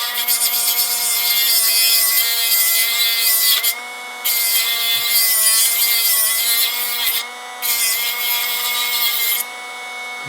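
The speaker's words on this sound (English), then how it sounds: "And all you do is get a Dremel, important tool, and my safety glasses on." Dremel rotary tool trimming the edges off a plastic mod part, a steady high-pitched whine with grinding bite, running continuously with two brief dips as the tool is lifted off the piece, close and loud.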